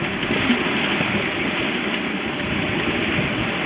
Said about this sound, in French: Remontée du Sognefjord sous Génois.